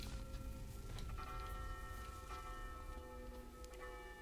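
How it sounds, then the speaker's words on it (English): A bell rings in the video game Saints Row IV, faint and steady against a dense bed of game ambience and soft ticking, with no speech over it. "What's with the bell?"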